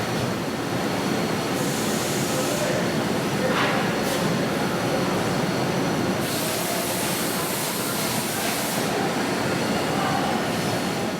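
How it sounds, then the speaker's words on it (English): A centerless grinder pulling a rifle barrel through in a firearms factory, giving a loud, continuous rushing grind with steady broadband noise and faint intermittent higher whines throughout, with no talking. "That's a centerless grinder. It pulls the barrel through and puts a really nice finish on it."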